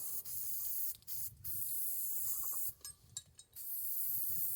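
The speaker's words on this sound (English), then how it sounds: "this is just cheap spray paint" A cheap can of spray paint hisses in several short bursts as traps are painted outdoors, close and sharp, with quiet gaps and a soft low rumble between sprays.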